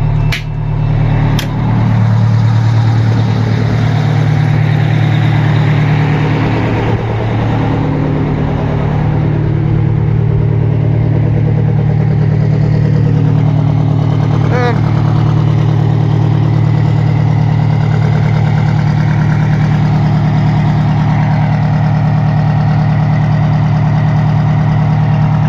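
Detroit diesel engine of a lifted 4x4 fire truck idling after a cold start, a loud, steady low rumble with a regular knocking beat that continues unbroken for the whole stretch, close by.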